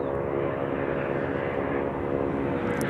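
An Airbus A321 airliner on flight 2801 to Sacramento at DFW Airport gives a steady, loud jet roar that holds evenly throughout with a low tonal hum.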